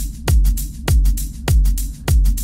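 Looped drum sample of a kick drum with hi-hat: four heavy, booming kicks at an even steady tempo, each followed by crisp hi-hat ticks, loud and close with no voices.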